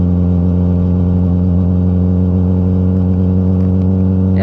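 A Yamaha R6 motorcycle with its exhaust baffle removed runs with a loud, steady, deep engine drone, close and continuous throughout with no speech, and a brief rising rev at the very end.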